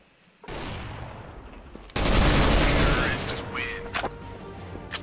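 Bursts of rapid gunfire erupt abruptly, loud and dense, followed by scattered shots and whooshing effects from the video game CS:GO.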